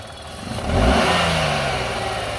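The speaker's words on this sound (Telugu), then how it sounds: "ఒకసారి ఇంజిన్ సౌండ్ కూడా యాక్సిలేటర్ రేట్ చేసి చూపిస్తాను, చూడొచ్చు." A 2021 Renault Kiger RXT petrol car with about 19,500 km on it revs its engine close by, climbing from a steady idle into a strong rise and then holding a high, even drone.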